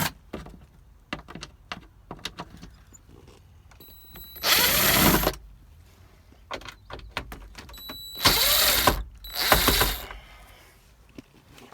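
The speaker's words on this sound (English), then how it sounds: "Got a 7mm to remove these bolts underneath the glove box." A 7mm tool removes bolts beneath the glove box of a Volkswagen Rabbit Truck, giving three short bursts of whirring amid scattered small clicks and rattles, close and otherwise quiet.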